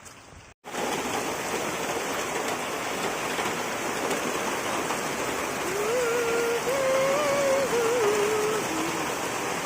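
Rain pours down over a flooded Assamese village, a dense even rushing hiss heard close after a brief knock at the start, with a thin wavering whistle-like tone rising over it near the end.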